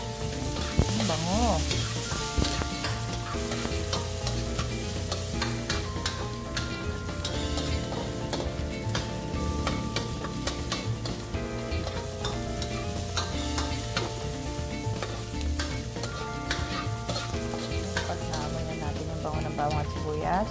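Garlic and onions frying in a pan while being stirred, a steady loud sizzle with the clatter of a utensil against the pan throughout, for a rabbit caldereta.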